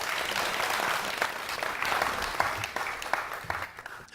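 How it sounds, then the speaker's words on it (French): Audience at a public community event in Dixinn applauding loudly, dense sustained clapping over the whole stretch with a few sharper peaks, close and full. "applaudissez très fort pour vous"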